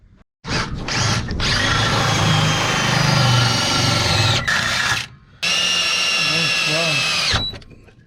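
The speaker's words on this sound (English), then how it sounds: "let me drill these up real quick" A power drill whines loudly in two long bursts with a short pause between, drilling holes to fit a rear sway bar on a Chevelle, its pitch steady and close to the microphone.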